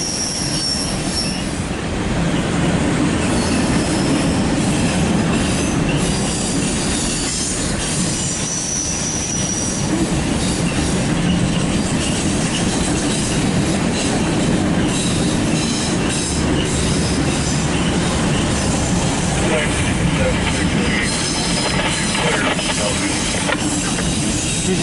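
A loaded CSX Q276-28 autorack freight train rolls steadily past, a long loud continuous rumble of wheels on rail with metallic squeal and clatter throughout, no voices.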